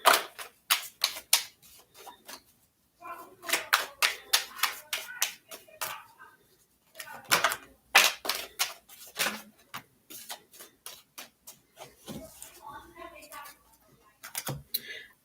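Tarot cards being shuffled during a love reading, giving rapid bursts of crisp flicking and riffling clicks in irregular clusters, close and fairly loud, with short pauses between runs.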